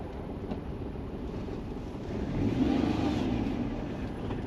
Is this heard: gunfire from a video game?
no